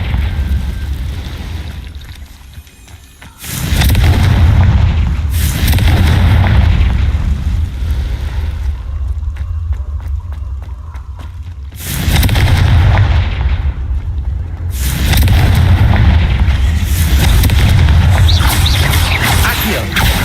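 Confringo fire spells blasting in Hogwarts Legacy: several loud, heavy explosions arrive in bursts, each with a deep rumbling tail, separated by quieter stretches of crackle.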